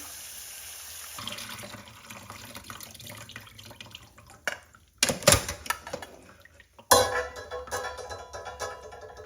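Chickpeas are rinsed under running tap water in a sink, a steady near stream broken by splashy surges and brief pauses as the water is shaken and poured off.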